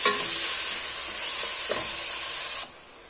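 Potatoes frying in oil for sautéed vegetables with rice, a steady close-up hiss and sizzle with a faint stir partway through, cutting off abruptly to near quiet near the end.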